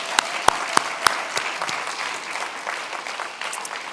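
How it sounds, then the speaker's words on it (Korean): A Korean church congregation breaks into applause at a Sunday service, opening with a few sharp, loud individual claps before settling into a moderate, continuous patter of hands. "박수 한번 할까요?"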